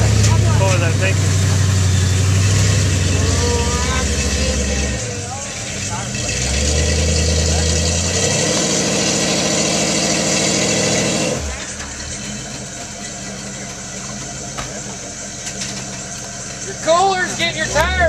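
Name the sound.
truck engine idling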